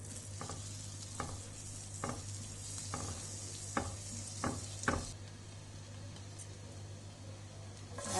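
Minced garlic frying in butter in a frying pan gives a steady soft sizzle, with several sharp clicks of a spoon stirring against the pan at irregular intervals, close and fairly quiet.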